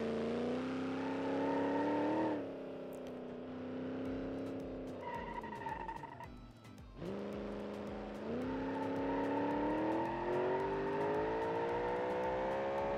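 A Lamborghini in BeamNG Drive tows a Chevy Chevelle on a trailer, its engine revving loudly and climbing through gears with brief drops between shifts, a steady close mechanical roar throughout.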